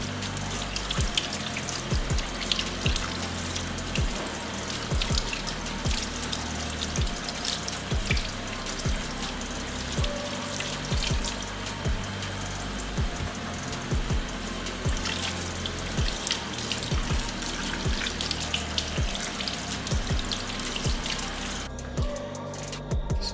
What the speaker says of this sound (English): So I'm going to wash them, try and get the excessive salt off.